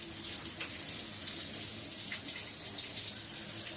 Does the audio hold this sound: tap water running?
yes